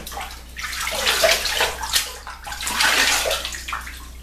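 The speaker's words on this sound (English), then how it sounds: "let me rinse it off" A vintage Gillette razor is rinsed under running water, a close, steady splashing rush that swells and eases in waves as the razor moves through the stream.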